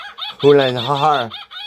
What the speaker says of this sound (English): that's an actual laughing gull